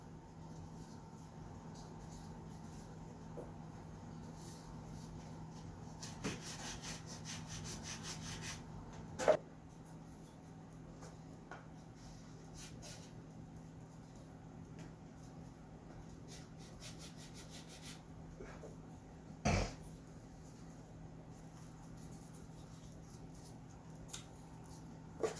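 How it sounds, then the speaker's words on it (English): Two wooden halves of a model aircraft build are sanded together by hand, a faint, steady rubbing hiss running throughout with a few sharp knocks and taps, quiet and close with no talking. "I'm going to sand these two halves, match sand them"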